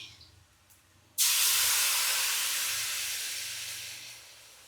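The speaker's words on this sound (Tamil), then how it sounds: "இப்போ கொஞ்சோன்னு சோயா சாஸ் வந்து ஊற்றிக்கிறேன்" Soy sauce hits a hot pan for veg rice with a sudden loud sizzle that starts after a second of quiet and fades slowly over the next few seconds.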